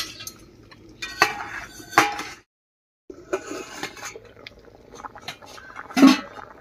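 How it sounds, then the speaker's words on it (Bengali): A lid lifted off a pot of simmering potatoes and jackfruit seeds: clinks and metallic knocks of the lid and utensils, a brief silent gap, then more clattering and one louder clank near the end, close by. "এবার ঢাকাটা তুলে নিচ্ছি"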